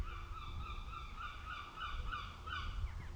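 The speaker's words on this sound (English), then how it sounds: "Shut up, bird, I'm trying to do my bit for Gingerman." A bird calls in woods at Kirkcaldy, a repeated series of honking, goose-like notes rising and falling over a steady low outdoor rumble.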